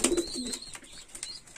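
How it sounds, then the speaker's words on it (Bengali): Pigeons of a high-quality breed kept as five pairs with young chicks coo softly in their loft, low throaty calls repeating near the start against a faint background murmur, with no one talking. "মোট 5 জোড়া কবুতর আছে।"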